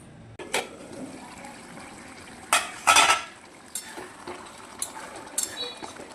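A paneer and spice mixture is stirred in a bowl, giving scattered clinks and scrapes of a utensil against the bowl, with a few louder knocks near the middle and quiet gaps between.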